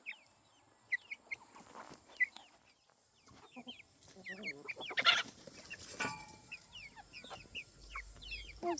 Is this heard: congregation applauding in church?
no